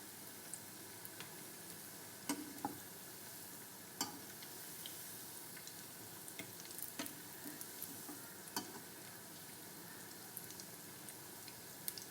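Kappa vada, tapioca fritters, fry in hot oil with a soft, steady sizzle broken by scattered sharp pops and crackles, heard close and without talk.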